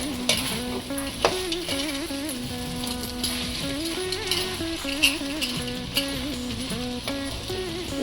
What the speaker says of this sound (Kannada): ಚೆನ್ನಾಗಿ ಏಲಕ್ಕಿ ಪುಡಿ ಮಿಕ್ಸ್ ಆಗೋವರೆಗೂ ಚೆನ್ನಾಗಿ ಕಲಿಸ್ಕೋಬೇಕು.